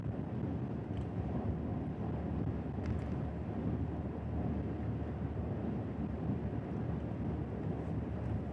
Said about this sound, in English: Picking up some gusty winds from this too.